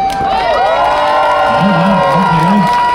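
Loud crowd cheering and shouting at the Copenhagen Pride 2025 opening, a dense wall of voices with whoops, and a single voice rising and falling through the middle.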